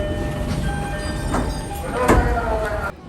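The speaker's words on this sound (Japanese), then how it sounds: "大宮駅に到着です。" A train pulls into Omiya Station in Saitama, heard from aboard as a low, steady rolling rumble with faint squeals and a couple of sharp clanks before the sound drops off near the stop.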